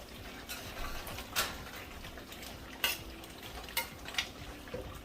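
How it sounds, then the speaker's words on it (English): Oxtail being stirred in a pot while cooking, with a few sharp scraping clinks of a utensil against the pot and soft sizzling between them, close but fairly quiet. "Now I'm gonna check on my oxtail and I'm gonna stir it around."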